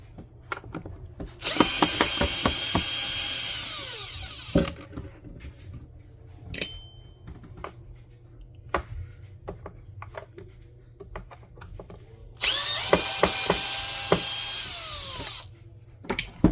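A power drill on a magnetized bit backs out stubborn screws from the bottom plate of a Bissell CleanView Swivel Rewind Pet upright vacuum. Two loud sustained whirring bursts are separated by quieter clicks and handling taps.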